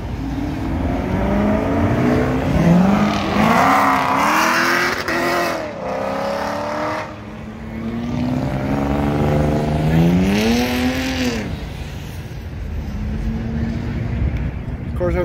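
Cummins-powered Ford F100 truck running nearby at a car show, its engine rising and falling through several revs with harmonic sweeps, with people talking over the sound.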